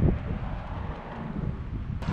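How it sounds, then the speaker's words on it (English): Strong wind blows outdoors along a street where leaves are being swept along, a steady, loud, low rumble of gusts buffeting the microphone for the whole stretch. "So the wind is just blowing so hard that they're all coming down the street"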